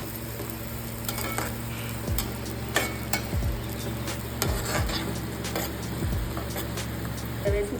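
Sliced onions and green chillies frying in a pan for a restaurant-style chicken fry, a continuous close sizzle with scattered pops and a few low knocks of a spatula against the pan, no talking.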